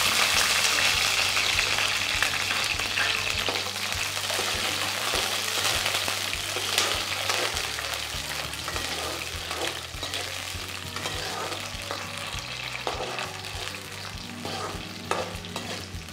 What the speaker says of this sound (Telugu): పచ్చిమిర్చిని ఇలా మంచిగా ఫ్రై చేసుకున్న తర్వాత తీసుకొని పక్కన పెట్టుకోవాలి